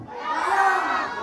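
Crowd of barangay residents at a town fiesta game in Kawit, Cavite shouts a loud, sustained cheer together, children's voices prominent, filling the whole moment without individual speech.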